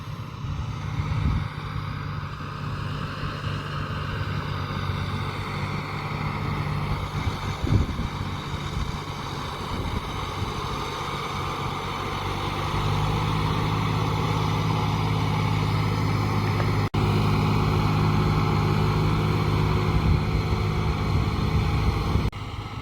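Dumper trucks run at a bridge road construction site, one leaving as another arrives, giving a continuous heavy diesel drone with a steady low hum that grows slightly louder and nearer in the second half.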